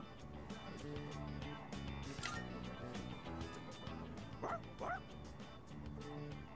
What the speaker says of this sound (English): It's a stray dog that chased that boy around a little while ago.